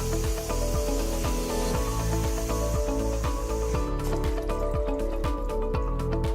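Water pours from a cup into a container holding a small fountain pump, with a rhythmic, repeating gurgle and splash at close range that thins out partway through; no one speaks.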